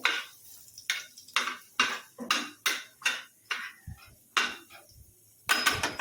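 Chopped garlic is stirred into oil in a pan with a utensil, producing a steady series of scraping strokes against the metal about twice a second over a faint sizzle, close and without talk.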